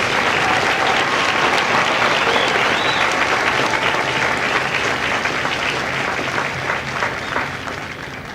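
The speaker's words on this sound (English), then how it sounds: "please join me in a round of applause for the company staff of Company M" Sustained crowd applause at a Marine Corps recruit graduation ceremony at MCRD San Diego, dense steady clapping from a large outdoor audience that tapers slightly toward the end.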